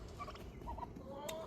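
Turkeys gobbling in their pen give a few short, warbling calls over a steady, fairly loud outdoor background, with no talking.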